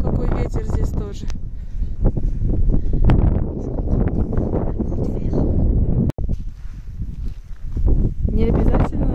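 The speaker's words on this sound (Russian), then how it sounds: "Какой ветер здесь тоже." Heavy wind buffets the microphone outdoors in snowy Savoie, France, in strong roaring gusts, with a brief dropout partway through and a person talking over it.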